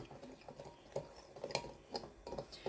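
A dry homemade garlic and bell pepper seasoning blend being stirred in a small container, with soft, fairly regular spoon clicks and scrapes close by in a quiet room.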